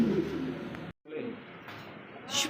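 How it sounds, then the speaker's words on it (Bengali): A pair of Black Lahore pigeons coo in low, rolling, throaty phrases at close range, with a brief break of near silence about a second in, then the cooing resumes. "চমৎকার এক জোড়া ব্ল্যাক লাহোরের একটা জোড়া"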